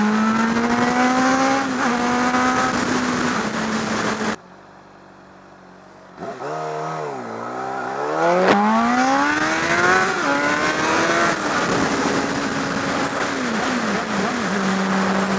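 Motorcycle engine while riding in cold air, revving up and down through gears with rising and falling whine, a brief quiet dip midway before loud acceleration resumes, close and continuous.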